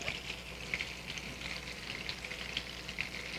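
Chicken pieces frying in a pan, browning on the underside, give off a steady low sizzle with small crackling pops scattered through, alone and fairly faint.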